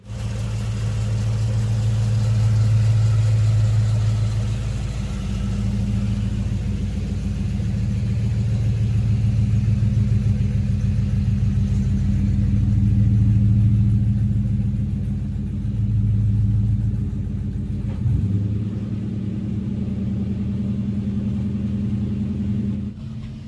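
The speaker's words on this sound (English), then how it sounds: "This is a 1966 Ford Fairlane 500. Let me get it pulled out so you can see." A 1966 Ford Fairlane 500 runs steadily with a deep, loud engine rumble and low idle throb, swelling slightly as it is pulled out, then a brief shift in tone near the end.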